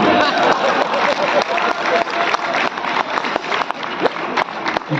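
Dense applause from a large crowd at an outdoor Hindi poetry gathering during a celebration event, steady clapping with some cheering mixed in throughout.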